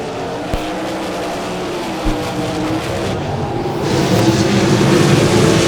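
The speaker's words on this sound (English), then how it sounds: "That was some frantic racing, 15 laps of action." Race cars at a short-track racing event roar around the track in a loud, sustained engine drone that builds toward the end, with a couple of brief thumps along the way.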